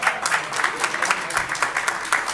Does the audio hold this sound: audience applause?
yes